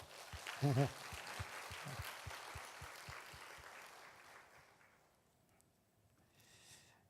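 At a Korean church service, the congregation claps, a rhythmic, evenly paced burst of many hands with some voices mixed in, fading after about four seconds into a quieter room with faint talk.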